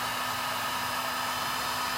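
A heat gun stripping paint from furniture blows a steady, loud broadband roar with a faint constant hum underneath, unbroken throughout and with no talking.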